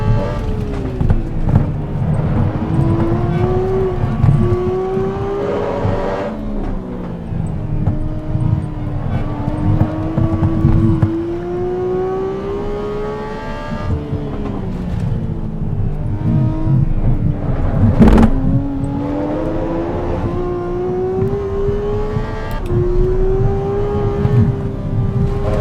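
Race car engine in Assetto Corsa EVO on the Nürburgring, heard from inside the car, revving steadily with repeated upshifts and rising whines, loud and continuous throughout.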